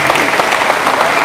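A congregation at a church gathering claps loudly for a fellow member, a dense, continuous burst of applause heard close and on its own.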